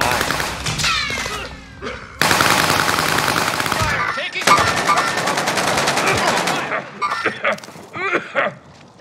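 Dense machine-gun fire in a first-person shooter, sustained bursts of rapid shots over game sounds, with a voice talking through the firing.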